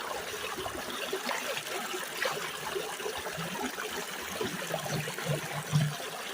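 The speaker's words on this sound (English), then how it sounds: "It stirs up all the sand, sucks it right down through the sluice." A gold sluice bucket auto feeder running with water, which stirs up sand and draws it down through the sluice, giving a steady close trickling and rushing of flowing water with faint gurgles throughout and no talking.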